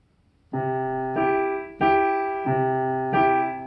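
Piano chords played in a steady three-beat pattern, five sustained chords rising and falling in a waltz-like lilt, clear and close with no talking.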